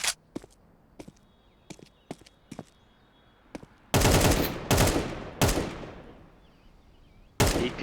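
AK rifle fire in Counter-Strike 2 on the Mirage map: sharp single shots and short taps at first, then several loud sustained automatic bursts close up.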